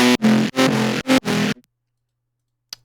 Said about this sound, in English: it just turns into this really like percussive bass that I really liked